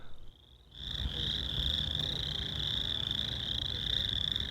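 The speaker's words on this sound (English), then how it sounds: "What sounds like a nature documentary about frogs is really the North 40 grass parking area" A dense chorus of frogs croaking continuously in a grass parking area at Oshkosh, a steady high trilling drone over low rumbling background, fairly faint and with no voices.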